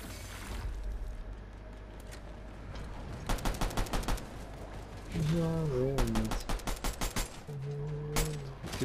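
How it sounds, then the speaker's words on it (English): Bursts of rapid gunfire in Fortnite, with several fast volleys of shots cracking out over steady game background noise, along with tonal in-game effects. "I'm shooting."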